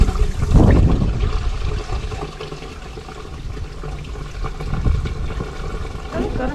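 Water pours and splashes loudly as a motorhome toilet cassette is tipped and emptied outdoors. The gush comes in surging bursts over several seconds with a gurgling trickle in between.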